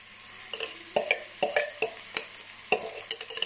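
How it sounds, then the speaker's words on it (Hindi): Onions frying in hot oil for achari chicken karahi, giving a close, steady sizzle punctuated by regular clinking stirs and scrapes of a spoon against the pan, with no talking. "सबसे पहले हम इसमें हल्के से प्याज को फ्राई करेंगे।"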